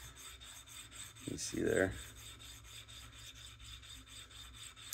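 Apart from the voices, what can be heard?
abrading the coating off a brass cube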